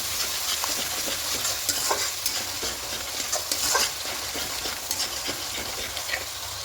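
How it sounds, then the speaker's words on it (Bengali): Spices and yogurt sauté in a pan for a fish curry, a quiet continuous sizzle with frequent scraping stirs and small clinks at an irregular pace, no voices. "দিয়ে সব কিছু খুব ভালো করে একটু কষিয়ে নেব।"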